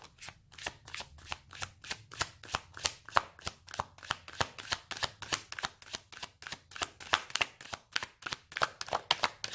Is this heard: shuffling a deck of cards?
yes